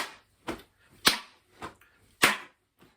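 Snare drum rhythm imitated or tapped out in a music lesson, a pattern of short sharp cracks alternating loud and softer hits, close and dry with no talking.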